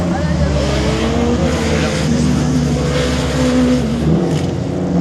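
A rally slalom car driven by Thierry Valland pulls away at the start, its engine holding a loud, steady growl with shifting revs. An announcer talks over the engine noise.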